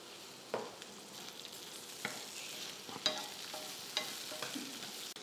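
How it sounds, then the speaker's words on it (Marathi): Tomatoes and whole spices fry in a pan for an egg curry, a soft continuous sizzle broken by a few light scraping stirs, faint and close. "हे थोडं लालसर परतून घेऊ आपण"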